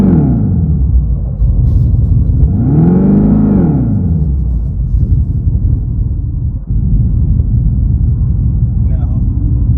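Dodge Charger Daytona EV Fratzonic exhaust chamber in sport mode, a deep synthetic engine rumble that swells in one rev and falls back to a steady drone, close and loud.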